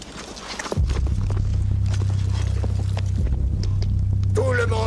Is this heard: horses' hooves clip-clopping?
yes